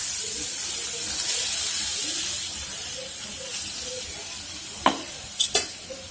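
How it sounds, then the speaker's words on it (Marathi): Onion with turmeric and finely ground chili frying in oil for a potato bhaji, a steady soft sizzle and hiss with a few sharp clinks of a spoon near the end. "हे छान असं फ्राय करून घ्यायचं."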